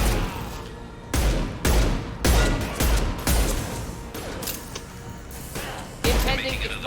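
Gunfire erupts in the video game Mass Effect 2 during combat, with repeated loud bursts of shots and impacts in uneven rhythm over several seconds, under dense battle noise with occasional voices.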